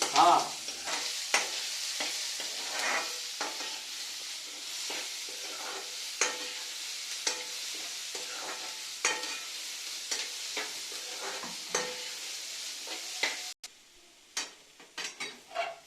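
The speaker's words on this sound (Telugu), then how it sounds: "ఉల్లిపాయలు వేగిపోయినాయి తీసి పక్కన పెట్టుకొని చల్లారి పెట్టుకోవాలి" Onions frying in a pan for a ridge gourd curry, giving a steady close sizzle with intermittent stirring scrapes and clicks, then briefly quieter near the end.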